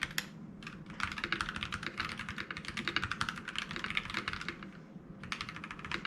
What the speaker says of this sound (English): let's do a typing test so you can hear the sounds.